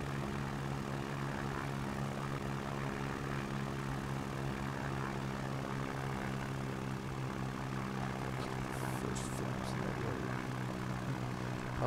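Propeller engine of a small STOL plane in the X-Plane 11 flight simulator, flying near Valdez: a steady, droning, harmonic hum that holds at constant loudness with no voices.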